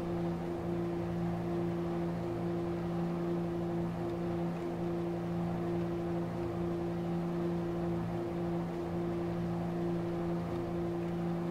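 He-111 bomber engines idling in War Thunder's cockpit simulator, a steady low droning hum with constant tones, unchanging and moderately quiet throughout.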